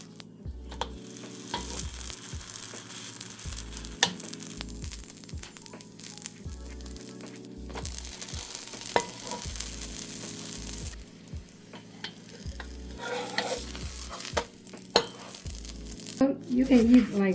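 A green onion pancake fries in an oiled pan with a steady soft sizzle, overlaid by a repeated low rhythmic thumping and occasional scraping or pressing sounds, with brief talk near the end.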